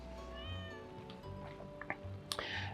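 A black cat meows several times in the farming game Stardew Valley, short tonal cries that sit over a low ambient game hum with a few soft clicks.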